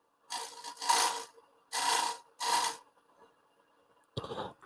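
Tool edge scraping against the corner of a wooden bowl during woodturning makes several short bursts of rasping, one a longer double stroke, separated by near silence, with a final brief scrape.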